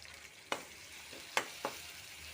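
Onion, green chilli and ginger paste frying in a pan with salt and turmeric for a soya and egg curry: a faint, low sizzle broken by three sharp stirring clicks.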